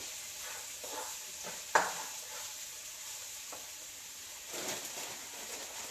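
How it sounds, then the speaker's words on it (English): Cauliflower fried rice sizzles softly in a pan while being stirred, with a sharp scrape of the utensil and a few quieter stirring strokes over steady frying hiss. "let it cook for about a minute. Just stir it in for about a minute"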